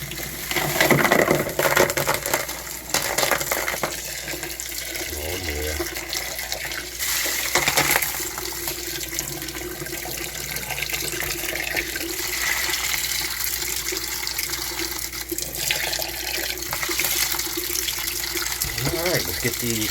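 Tap water runs and splashes over tumbled agate stones being rinsed, a continuous gushing rush with clatter and shifting, while a person talks over it intermittently.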